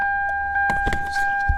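A 2012 Hyundai Elantra with a camshaft timing fault is switched off: a couple of sharp clicks and clunks as the engine stops, over two steady electronic tones, then a soft low thump.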